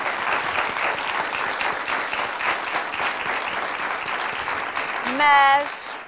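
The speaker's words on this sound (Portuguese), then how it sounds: "Um aplauso para o Dr. Hélder." Studio audience on a Portuguese afternoon television talk show applauding Dr. Hélder, a steady wash of clapping that holds evenly throughout, with a short musical jingle rising near the end.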